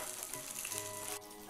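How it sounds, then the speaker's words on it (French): Steady, gentle sizzle of abalone frying over low heat in a Qing imperial-style dish, a continuous close hiss that drops slightly near the end, no voices. "Faites frire à feu doux."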